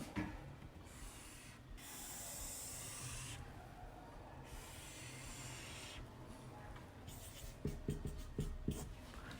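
Marker or chalk strokes scraping across a board while a shear force diagram is drawn, a quiet rubbing hiss in short bursts that grows into quicker taps and strokes near the end, with no talking.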